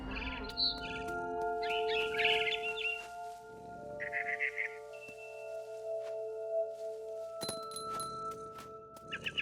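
A barn swallow in What Remains of Edith Finch gives bright, short chirps in small bursts over sustained tonal game music, with a few soft knocks near the end.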